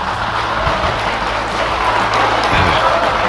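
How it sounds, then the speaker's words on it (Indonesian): Audience at a speech by Prabowo laughing and clapping, a steady dense wash of applause and crowd noise throughout, loud and continuous with no single voice standing out. "Jelas Prabowo, disambut tawa dan tepuk tangan lagi."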